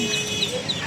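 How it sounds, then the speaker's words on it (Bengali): Dense, continuous clucking and chirping from many Sonali chickens together in a large poultry market, a steady flock murmur at moderate volume. "এগুলো হলো সোনালি মুরগি"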